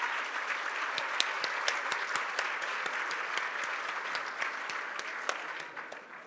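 A large audience applauds steadily after a speech at a political event on abortion in Florida, dense clapping sustained throughout and tapering slightly at the end.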